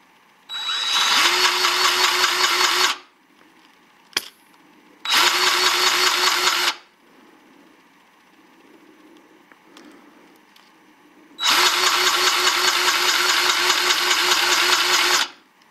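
A DeWalt 20V MAX cordless grease gun, model DCGG571M1, whirs loudly in three separate bursts of a few seconds each, with quieter handling clicks in the gaps between runs.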